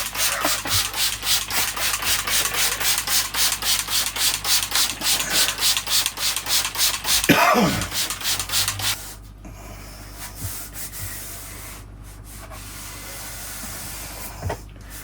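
Steady rhythmic scraping strokes rasp across bonsai soil of an overgrown English oak as moss is scraped off, loud and close for about nine seconds, then fading to sparse faint scuffs.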